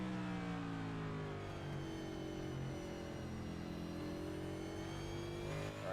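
Cup-style race car engine in the iRacing simulator at Martinsville, holding a steady, loud mid-pitched drone with layered harmonics that rise and fall gently as it rolls through a corner, with no talk.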